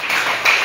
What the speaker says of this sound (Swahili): Mpe makofi Yesu wetu